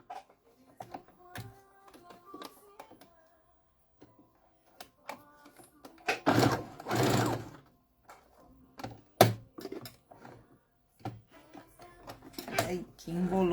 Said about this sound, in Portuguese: a gente vai fazer a costura aqui